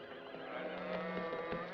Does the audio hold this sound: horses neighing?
yes